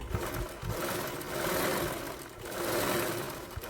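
Sewing machine stitching along a folded lining piece for a garment neckline, a steady mechanical whirring hum that rises and falls in two sustained runs, close and fairly loud with no talk.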